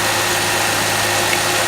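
A running car engine idles steadily and loudly up close, the sound dominated by a continuous broadband mechanical hum in which a fuel injector's fine ticking would sit.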